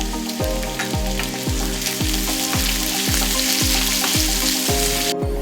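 Onion sizzles steadily as it fries in a pan for a Kerala mango curry, with a continuous hiss and a regular scraping rhythm of stirring about twice a second, close and loud.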